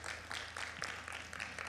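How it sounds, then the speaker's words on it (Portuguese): Church congregation at a Brazilian service applauding together, a steady wash of many hands clapping at moderate distance, quite faint, with a low hum underneath and no talk. "Vamos dar uma salva de palmas para Jesus."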